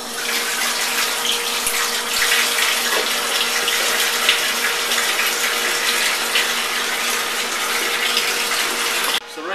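Hot tap water pours steadily from a tap in a continuous, even rush with no break, close by and fairly loud.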